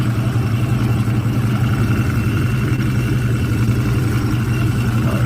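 A supercharged muscle car with a ProCharger idles close by, a steady loud low rumble with a faint high whine running through it, constant without revving or pauses.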